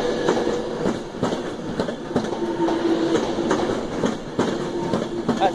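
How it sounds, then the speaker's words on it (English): A Class 390 Pendolino electric train pulls away from platform 3 at Carlisle station, with steady loud rolling rumble and rhythmic wheel clicks over rail joints running throughout. "Heading off platform 3, Carlisle 390 1005."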